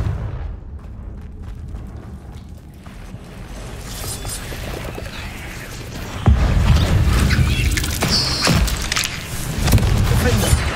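Fiery Confringo blasting spells explode in Hogwarts Legacy, a few heavy booms bursting over a steady rumble of game noise, with the loudest blasts coming near the end.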